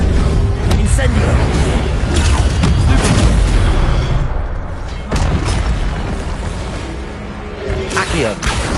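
Incendio fire spells cast in Hogwarts Legacy, loud booming bursts and whooshing flames over continuous game combat noise, with a voice shouting spell names during the fight.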